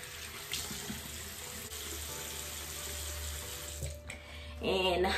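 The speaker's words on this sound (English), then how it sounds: "I'm just gonna rinse my face now." A bathroom sink tap runs while a face is rinsed, a steady close water hiss with splashing that swells louder near the end; no one talks.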